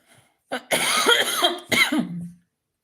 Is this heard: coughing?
yes